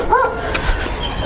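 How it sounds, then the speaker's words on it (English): A Labrador dog outdoors on an early morning walk in the Philippines gives a single short, whiny yelp against steady outdoor background noise. "This barking that you're getting is just wants petting."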